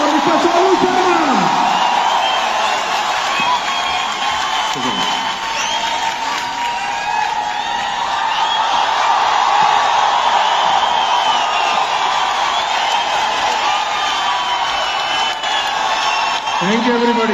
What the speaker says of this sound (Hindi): मैं चाहूंगा एक बार जोरदार तालियां और मिस्टर सोनू शर्मा।